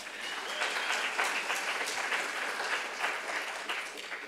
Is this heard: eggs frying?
no